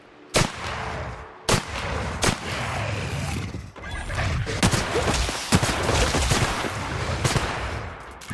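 Gunfire in The Outer Worlds game: several sharp, separate shots at irregular intervals over clanking game noise and rumble, fairly loud and close.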